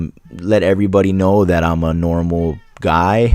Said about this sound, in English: You can hear my cat meowing away.